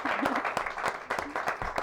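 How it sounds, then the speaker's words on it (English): Applause from a small crowd, scattered claps forming a steady patter for a couple of seconds, with a voice briefly audible underneath. "Is there a round of applause?"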